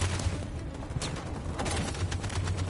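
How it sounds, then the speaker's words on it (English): Gunfire in the video game Detroit Become Human: a continuous rattle of distant shots over a low rumbling battle bed, with no clear pauses throughout. "Cover fire and then you charge."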